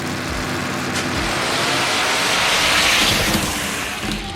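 A 1957 Chevy roars down a drag strip at a Friday night grudge race, a loud, steady broadband engine roar that swells and holds for a few seconds with no talk over it.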